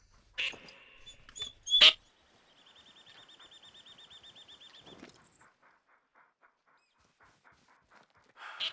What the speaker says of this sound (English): At least I got the dog to shut up.